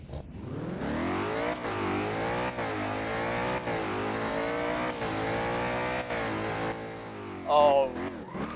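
Virtual Ford Mustang GT500 from Driving Empire revving loudly in long sustained pulls, a growling close engine note rising and falling, with a brief squeal-like burst near the end.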